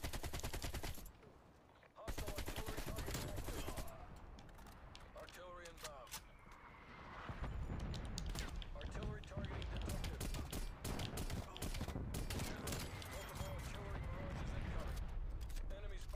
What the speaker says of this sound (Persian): به خدا من 100 تا شات زدم.